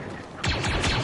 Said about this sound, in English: So this is the shotgun.